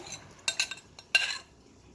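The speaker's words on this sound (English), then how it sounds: "I'm gonna stir it for a little bit until it starts boiling up again." A spoon scrapes and taps against a pot in a few short bursts, stirring thick Jamaican cornmeal porridge, with quiet pauses between.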